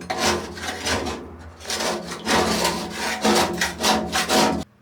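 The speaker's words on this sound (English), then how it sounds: "So I've got all the loose stuff scraped off." Loose greasy grime being scraped off the inside of a cheap secondhand parts washer, a steady, rough rasping that runs in repeated strokes, close and loud, with a short pause partway through and no voices.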